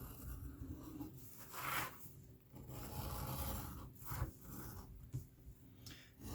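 Close, continuous rough scraping as a thin leather edge is beveled and shaved with an edge tool, in uneven strokes with brief dips between passes.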